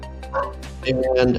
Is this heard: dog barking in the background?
yes